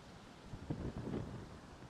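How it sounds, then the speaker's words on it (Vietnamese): Strong wind buffets an outdoor microphone near a sugarcane plantation, a low, rumbling gusty roar that swells and fades and then rises again, faint and with no talking. "Gió dữ dằn lắm"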